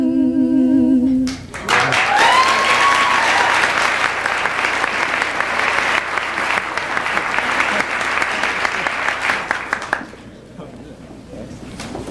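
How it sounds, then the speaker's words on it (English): Loud, sustained audience applause at a 1995 university lecture, rising after a brief sung or spoken phrase at the start and continuing steadily for about eight seconds before tapering off. "give him another round of applause"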